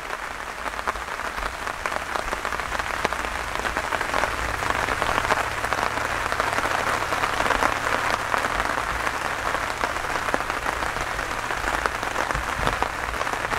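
Rain falling outdoors during a float-fishing trip, a steady, dense patter of drops that holds at an even level throughout, with no talking.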